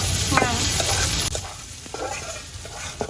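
Shrimp fry in a hot pan with a loud, close, steady sizzle while a utensil stirs and scrapes through them in quick, irregular knocks.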